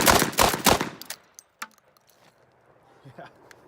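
A Winchester Model 1897 pump shotgun slam fires in a fast burst of about four loud, close shots in the first second, followed by mechanical clicks and clatter as the noise dies away, with voices heard faintly.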